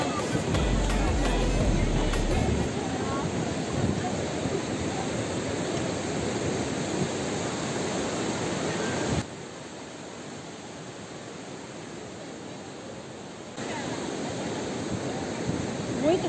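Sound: ocean waves at Geribá beach, Búzios

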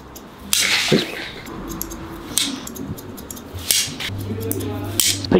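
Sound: scissors cutting hair vertically

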